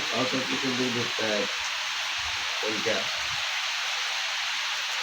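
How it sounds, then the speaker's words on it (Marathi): Rain falls in a village, a steady even hiss throughout, with someone speaking in short bursts over it during the first half. "आता पाऊस चालू झालेला आहे"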